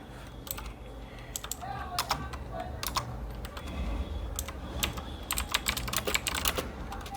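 Someone types on a computer keyboard in uneven bursts of fast, close clicks and key taps, with short pauses between words.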